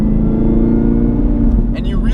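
A high-torque sports car cruises in a higher gear at low RPM on a twisty road, its engine giving a steady, deep, close rumble heard from inside the car.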